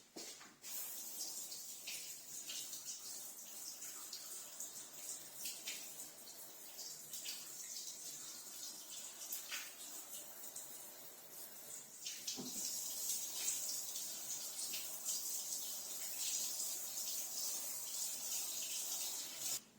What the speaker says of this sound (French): je l'ai passé un petit peu sous l'eau chaude